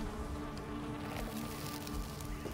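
Bees buzzing in the survival game Valheim, a steady close insect drone with a low hum that holds throughout and no talking over it.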